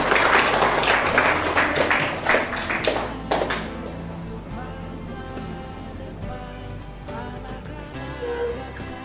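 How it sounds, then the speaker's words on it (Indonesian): Applause at a school event breaks out at the start and fades within a few seconds, giving way to voices and background sounds in the room. "Tepuk tangan dulu, ayo Gabriel."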